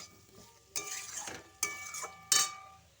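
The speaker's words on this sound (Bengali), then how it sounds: "ভালোভাবে এটা মশলাগুলো আমি মাখিয়ে নিচ্ছি" Spices being mixed into a papaya curry in a pan, heard as three distinct bursts of scraping and stirring with a faint sizzle between them, close and alone without talk.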